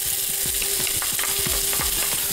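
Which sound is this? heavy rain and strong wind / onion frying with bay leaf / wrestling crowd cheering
onion frying with bay leaf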